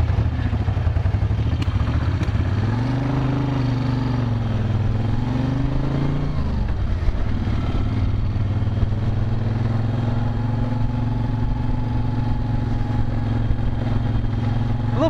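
A 1970s Moto Guzzi California cruiser engine idles and briefly revs, its deep low throb rising and falling in a couple of swells before steadying into an even, close rumble.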